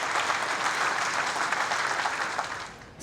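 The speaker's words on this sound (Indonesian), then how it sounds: "kita berikan tepuk tangan Bapak Ibu sekalian" Officials and guests at an Indonesian anti-narcotics ceremony with the president applaud after a document exchange, a thick, even roar of many hands that holds steady, then thins near the end.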